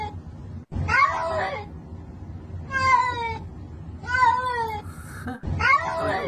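A cat meows repeatedly up close, four distinct drawn-out cries spaced a second or so apart, with brief faint knocks and rustles between them.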